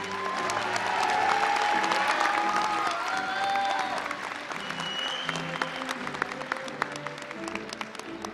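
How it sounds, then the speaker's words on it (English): Sustained applause for graduates at a university fall commencement ceremony, a steady wash of many clapping hands in a large hall with faint crowd murmur and a few distant cheers, gradually easing over about eight seconds. "Let's have a round of applause for these graduates."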